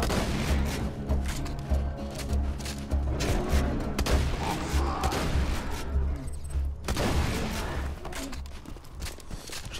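Gunfire in the Borderlands 2 shooter as flying creatures' projectiles are shot down: loud bursts of rapid shots and booming impacts come in clusters over a low rumbling game backdrop.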